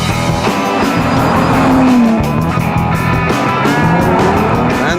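A supercharged Jaguar F-TYPE V6 engine and exhaust roar loudly and up close, the pitch climbing and dropping through gear changes for several seconds, with no voices.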